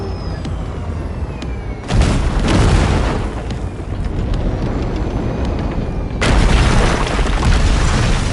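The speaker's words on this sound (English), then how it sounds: "there's a monster gate that needs to be blown open" Heavy booms from an explosion blowing open a monster gate in a video game, two loud low-end blasts with a deep sustained rumble between and after them.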